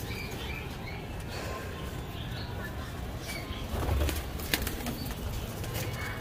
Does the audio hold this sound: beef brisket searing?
no